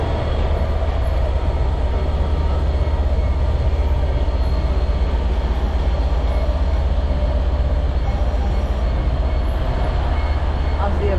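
A train arrives at Manchester Piccadilly station with a loud, steady low rumble and engine drone filling the platform, continuous from start to finish.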